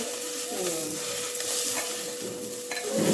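Drumstick pieces fry in hot oil for sambar, giving a steady close sizzle with a few spoon scrapes and stirring strokes throughout, and no talking.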